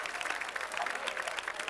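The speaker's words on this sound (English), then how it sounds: "let's give all our instrumentalists tonight just a big round of applause" A concert audience at a 2019 winter choral concert applauds the instrumentalists, a dense, even patter of many hands clapping at a moderate distance throughout.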